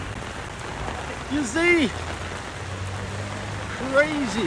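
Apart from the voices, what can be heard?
rain falling in Kuala Lumpur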